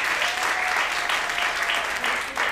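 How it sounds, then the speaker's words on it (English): Dense audience applause at an event's closing, a steady wash of many hands clapping that holds level throughout, close and fairly loud, with a brief dip near the end. "A round of applause for Sheikh"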